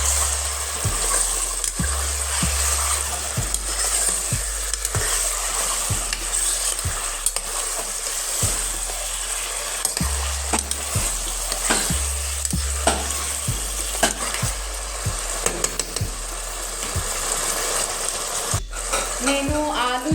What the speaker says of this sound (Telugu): సో నెక్స్ట్ మనం ఇందులో చికెన్ వేసేసుకుందాము. ఒకసారి మిక్స్ చేస్తున్నాం.